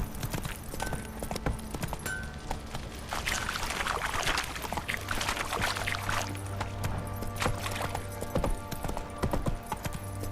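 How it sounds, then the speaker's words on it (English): Horses being watered in The Witcher 3 video game: a steady stream of pouring water runs throughout, joined by close hoof clip-clops and light tack noises, with no speech. "Time to water the horses."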